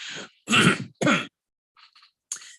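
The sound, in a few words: throat clearing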